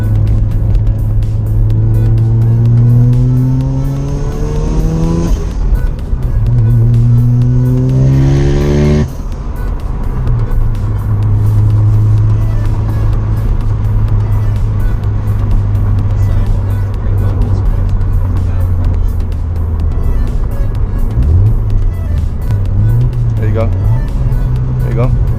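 A Mazda RX-7 FD with a rotary engine drives through a turn, its steady, loud engine drone rising and falling with throttle changes, while a voice talks over it almost throughout.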